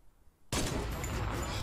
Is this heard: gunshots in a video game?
yes